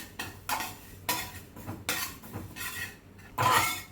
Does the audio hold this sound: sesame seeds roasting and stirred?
yes